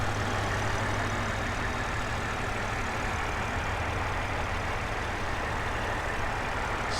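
A 2020 BMW X3 M40i's turbocharged inline-six idles quietly and steadily, a low even hum running unbroken with no voices over it.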